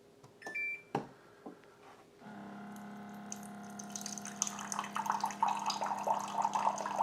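Hot water pours from a Waterdrop Flash countertop filtration system into a container after a few short beeps, a steady splashing stream that rises gradually in loudness over several seconds.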